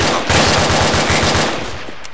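Loud, close machine-gun fire in a military video game set in Sangin, a rapid continuous burst of shots that rattles on and then fades slightly toward the end.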